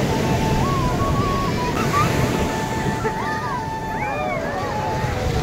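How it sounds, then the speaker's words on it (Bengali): Ocean waves roll in at Marina Beach, Chennai, a steady rushing surf with wind buffeting the microphone, while voices and cries of people playing in the water rise over it. "ঢেউ আসছিল"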